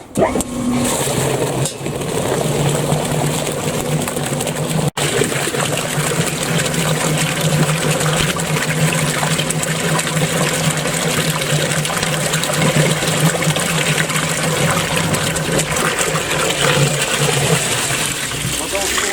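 Pumped water flushes through the diesel particulate filter of a BMW X5 with the N57 diesel engine, a steady, loud rushing and gushing that continues without a break, with a brief dropout near the middle.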